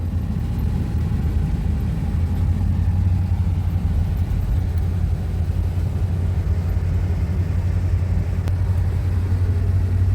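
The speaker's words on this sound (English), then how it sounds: "We are driving through Cornell campus right now" Car driving through the Cornell campus, a steady low engine and road rumble with tyre noise, continuous and fairly loud from inside the vehicle for the whole stretch, no talking.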